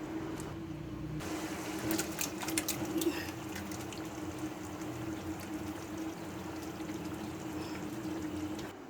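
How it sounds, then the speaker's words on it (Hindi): Marinated mutton liver is tipped into hot masala in a pan, a sudden wet splash followed by a continuous bubbling, frying hiss that stays close and steady. "अब हम इसमें कलेजी डालेंगे जो हमने मैरिनेट की थी।"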